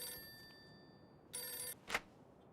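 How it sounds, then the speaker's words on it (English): A telephone rings inside a Mafia-themed video game, sounding as a steady electronic bell tone followed by a short louder burst and a brief sharp accent near the end, with no voices over it. "why am I answering the phone at Joe crib?"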